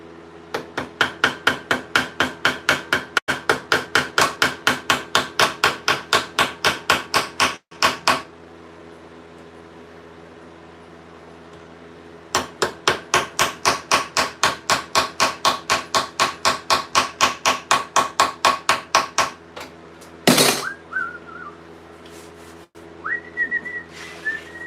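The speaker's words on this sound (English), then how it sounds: "We're gonna hammer this in." Rapid, steady hammer blows ring out on a rivet in medieval steel leg armour, in two long bursts separated by a pause, followed by a few scattered knocks and a short metallic screech.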